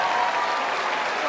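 A large crowd of thousands applauding at an outdoor Carols by Candlelight concert, a dense, even wash of clapping held at full strength for the whole short moment.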